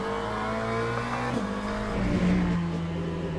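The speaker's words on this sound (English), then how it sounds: "Cockpit engine sounds." Race car engine heard from the cockpit in Assetto Corsa Competizione, a steady muffled drone holding a fairly constant pitch with a slight dip and rise in revs midway, close and continuous with no talking.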